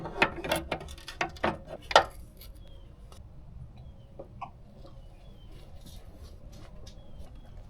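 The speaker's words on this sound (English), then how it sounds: "we will need to move the belt tensioner a little bit so that way we can release the tension" A ratchet wrench turns the serpentine belt tensioner on a Jeep Patriot engine, giving about half a dozen sharp, close clicks in quick succession, then falling away to a low, quiet background hum with no talking.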